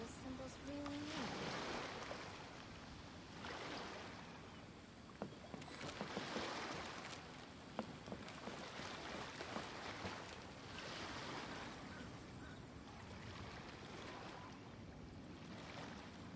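Ocean waves roll and wash in steady, swelling surges in Genshin Impact, with a continuous broad rush and periodic louder crests across the whole stretch, no voices.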